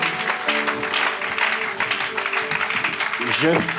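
A church congregation applauds and cheers in praise during a service, with dense clapping mixed with voices and shouts all the way through.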